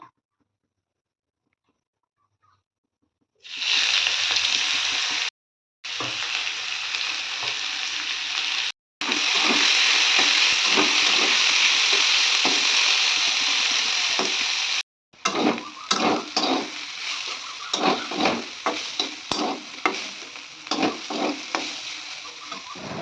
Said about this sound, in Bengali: তরুলিটা আমি একটু ভেজে নিয়েছিলাম, দেখতেই পেলেন বেশ ভালো লাল লাল করে ভাজা হয়ে গেছে